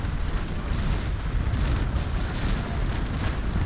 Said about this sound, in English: Angle away as his broadside comes out